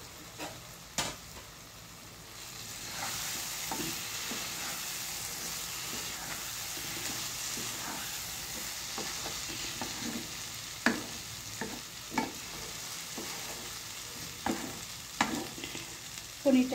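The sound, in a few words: paneer pieces frying and sizzling in a pan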